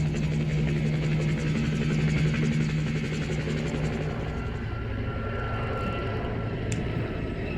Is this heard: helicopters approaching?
yes